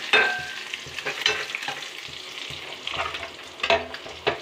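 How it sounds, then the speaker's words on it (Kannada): Sizzling oil with curry leaves and spices crackling in a tempering, broken by repeated scraping clinks of a spoon stirring the pan, close up, with no talking. "ಒಗ್ಗರಣೆ ಹಾಕ್ತಾ ಇದ್ದೀನಿ"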